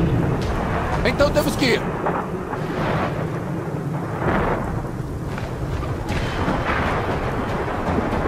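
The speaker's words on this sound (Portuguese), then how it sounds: "Tempestade de vento vindo rápido" Thunder rumbles and booms through a windstorm in Gears of War 4, deep rolling crashes repeating over several seconds, with a voice speaking briefly beneath the storm.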